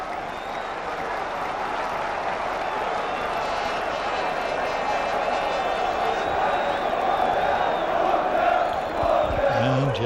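Barnsley football supporters in a stadium roar and chant in a broad, continuous crowd wash at a 1990 match, steady and swelling near the end, with no commentary over it.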